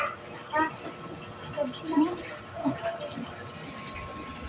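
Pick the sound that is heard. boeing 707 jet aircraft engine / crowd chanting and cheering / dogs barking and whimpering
dogs barking and whimpering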